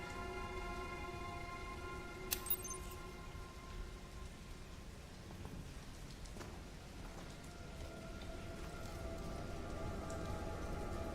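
Steady rain falling in the video game Resident Evil Requiem, a continuous hiss of drops on surfaces with a faint low rumble beneath, even and close throughout with a brief sharp sound partway.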